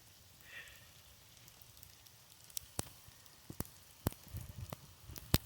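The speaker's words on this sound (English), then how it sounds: "with this nice freezing rain pelting me from the side" Freezing rain pelts down outdoors, heard as faint, sparse drops and sharp taps that grow more frequent toward the end over a quiet background.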